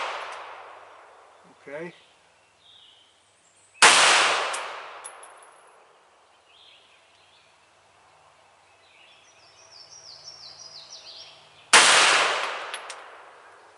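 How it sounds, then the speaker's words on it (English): Two sharp, loud PMR 30 pistol shots crack several seconds apart at an outdoor shooting range, each with a ringing tail, between quiet stretches, faint handling noises and a brief spoken word. "Just gonna shoot one round here and see where I'm landing."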